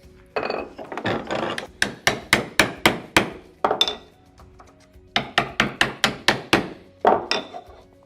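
Mallet blows drive a chisel into wood while chopping a mortise, landing as close, loud, sharp knocks in two rhythmic bursts of about eight to ten strikes each, separated by a brief pause, with no talking.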